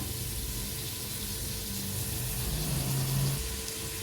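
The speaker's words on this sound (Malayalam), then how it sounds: "സവോള ഗോൾഡൻ ബ്രൗൺ കളർ ആവുന്നത് വരെ തന്നെ നമുക്കിത് വഴറ്റി എടുക്കേണ്ടതാണ്." Chopped onions sautéing in a pan for a Kerala-style tapioca biryani: a steady, even sizzle and hiss filling the whole stretch at moderate volume, with no voices.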